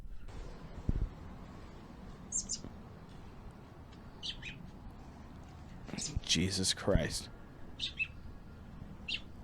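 Birds chirp and tweet in short bright bursts, with a cluster of louder calls toward the end, mixed with someone talking over the top and some background noise.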